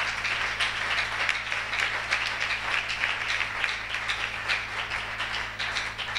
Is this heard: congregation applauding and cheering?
yes